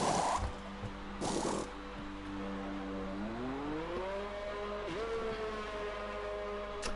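F1 car engine in a racing game at Hungary, a steady tonal whine that climbs in pitch as the car accelerates, with brief bursts of noise early on.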